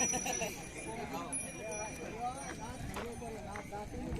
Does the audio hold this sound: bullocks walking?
yes